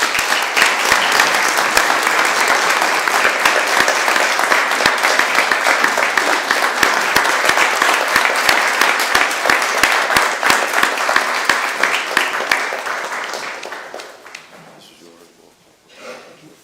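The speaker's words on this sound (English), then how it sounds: "Let's give Dorian a round of applause." Sustained applause from the audience at a city council meeting honoring Dorian Crosby, a dense loud wash of clapping that holds steady for many seconds, then tapers and fades into quiet near the end.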